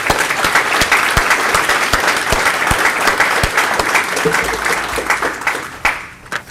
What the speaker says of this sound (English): I ask you to give them a big round of applause to show appreciation for everything they've done.